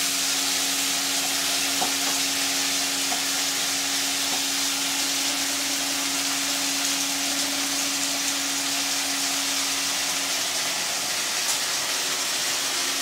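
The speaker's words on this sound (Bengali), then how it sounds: "আমার ভাজা হচ্ছে" Fish frying in a pan for Bengali jhol, a steady continuous sizzle with a faint hum running underneath, holding loud and even throughout with no voices.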